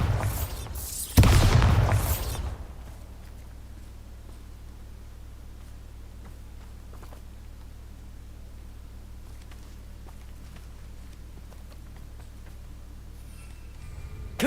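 A Bombarda spell blast in the video game Hogwarts Legacy: one loud booming explosion burst near the start that quickly dies away, followed by a steady low rumble and faint scattered ticks.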